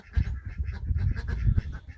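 Chickens clucking and squawking close by, a busy overlapping flock calling continuously for a couple of seconds.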